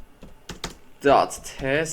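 Quick clacking keystrokes on a computer keyboard while entering a Linux command, a short burst of taps followed by a person speaking close to the microphone.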